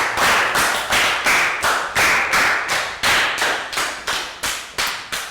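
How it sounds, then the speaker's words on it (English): A classroom round of applause from a Year 3 math lesson, with loud, sharp, evenly spaced claps in a steady rhythmic pattern, close and with no talking. "Round of applause for Prel."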